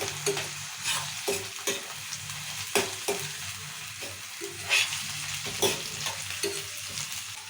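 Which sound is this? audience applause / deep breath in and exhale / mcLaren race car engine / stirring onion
stirring onion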